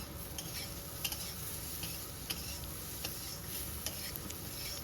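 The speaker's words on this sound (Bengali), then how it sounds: "এখন গ্যাসের ফ্লেম মিডিয়াম টু হাই রেখে উচ্ছে কুমড়োটাকে একটু লাল লাল করে ভেজে নেব।" Steady sizzling of bitter gourd and pumpkin frying in a pan over medium-high flame, a constant hiss with occasional small crackles and a faint clink of stirring.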